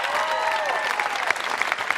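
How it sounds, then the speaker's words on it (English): A studio audience at a televised singing competition results show claps and cheers steadily, with music or a tone lingering under the brief burst of applause. "One more round of applause for the group leaving us tonight."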